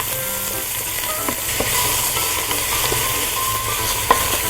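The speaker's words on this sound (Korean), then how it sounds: "그다음에 바로 소고기를 넣어서 볶아주세요. 자, 그다음에 불린 미역을 준비해서요. 여기에다가 미역도 같이 볶아줍니다." Beef and soaked seaweed stir-frying in a saucepan, a steady close sizzle with light scraping and tapping of a utensil against the pan throughout.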